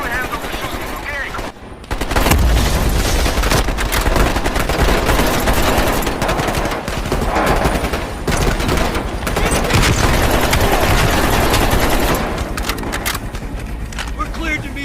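Loud, sustained automatic gunfire in the Call of Duty Black Ops Cold War campaign, dense machine-gun bursts mixed with engine roar and impacts, with shouted voices in between.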